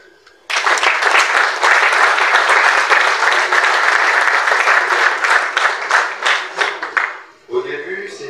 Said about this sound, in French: nous devons nous autoriser à nous applaudir pour le travail